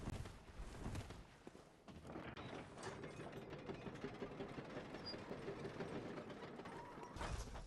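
An elevator moves in a video game, giving a steady mechanical grinding rumble with faint ratcheting clicks that run unbroken for several seconds, with no talking.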